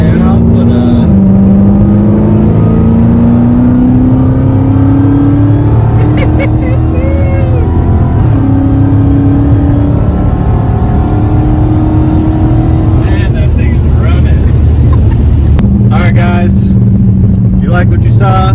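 A Dodge Challenger Redeye fitted with a carbon fiber driveshaft accelerating hard, its engine roaring loud and close as pitch climbs through gear pulls, with a brief shift break midway.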